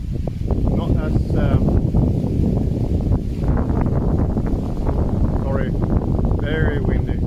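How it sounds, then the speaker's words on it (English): Strong wind buffets outdoors around a tree top pepper plant, a loud rumbling roar across the whole stretch, with someone talking over it in bursts. "very windy."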